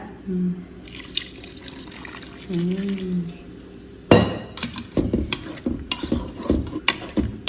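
Water splashes and pours into a pan of cauliflower cooking in a home kitchen, arriving as loud irregular bursts in the second half. A quieter stretch with soft tonal hums comes before it.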